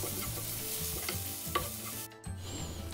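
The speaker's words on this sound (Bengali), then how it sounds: "পেঁয়াজকে একটু ব্রাউন কালার করে আমি ভেজে নেব" Onions frying in a little oil with dried chillies, a steady close sizzle with scraping stirs throughout and a brief dip in the middle.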